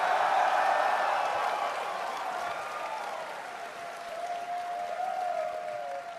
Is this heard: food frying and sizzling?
no